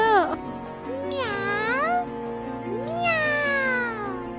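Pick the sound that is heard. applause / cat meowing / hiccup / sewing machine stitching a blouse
cat meowing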